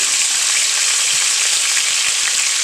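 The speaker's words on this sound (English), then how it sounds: "now that we braise these off, we're going to deglaze the pan a little bit here." Beef shanks sear in a hot pan for beef barley soup, a loud, dense, continuous sizzle with crackling spatters and no pauses, close up.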